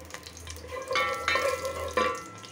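Hilsa fish curry with eggplant and potato cooking in a pan: soft stirring and watery bubbling with a few light metallic clinks, close and fairly quiet, no voices.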